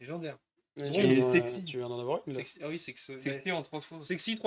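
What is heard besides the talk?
None of the usual background noises is heard.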